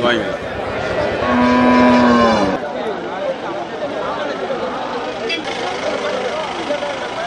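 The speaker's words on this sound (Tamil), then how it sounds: "ஆமாம், சிந்து மாடு." Sindhi cattle low at a busy cattle market in Melapalayam, one long moo rising clearly in the first seconds above steady crowd chatter and background engine noise, with people talking nearby throughout.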